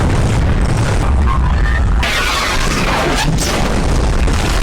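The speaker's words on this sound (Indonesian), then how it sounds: "meriam raksasa Basilika ditembakkan ke arah tembok Konstantinopel" A giant cannon fires at city walls, a loud, sustained boom rolling through, a heavy blast with crashing noise that stays dense and roaring for several seconds.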